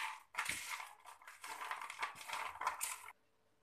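Crispy fried okra being tossed and mixed with crushed garlic and chili powder, giving a close, continuous crunchy rustle and scrape for about three seconds before stopping abruptly, with no talking.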